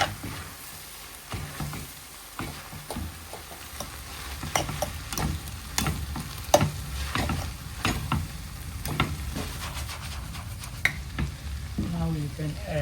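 Noodles, egg and vegetables sizzle in a hot pan with a steady frying hiss, broken by frequent sharp scrapes and clacks of a spatula as the food is tossed and stirred.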